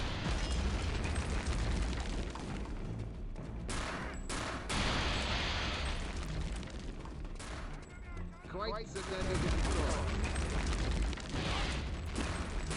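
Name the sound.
rocket explosions in a video game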